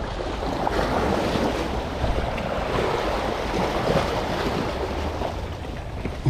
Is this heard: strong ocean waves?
yes